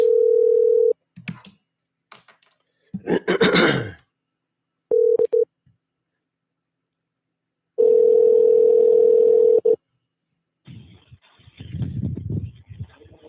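A telephone call with a steady dial tone broken into segments, interspersed with clicks and short bursts of line noise, loud and close, ending in a rough muffled rumble.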